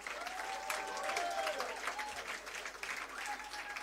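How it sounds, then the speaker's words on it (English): Sustained audience applause as a chairman walks to take his seat, a thick, even roll of many hands clapping that continues throughout, with faint voices underneath. "He's not going to sit very fast, so just keep clapping"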